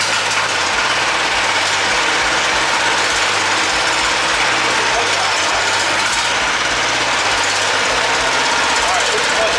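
A John Deere 200 series tractor fitted with a replacement engine runs loud and close with a fast, rough, knocking idle that continues steadily throughout.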